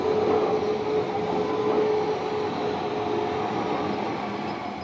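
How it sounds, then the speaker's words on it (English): A steam locomotive train pulls in at the remote Highland terminus of Kyle, giving a steady loud rumble of wheels and carriages with a thin sustained whine, easing slightly toward the end. "the long-forgotten atmosphere of a steam arrival at this remote Highland"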